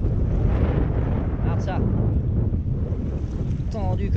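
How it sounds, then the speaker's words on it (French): Strong wind buffets a moored sailboat at an anchorage near La Ciotat, a dense, constant roar across the microphone with water sloshing underneath and faint rigging whines. "Il y a du vent"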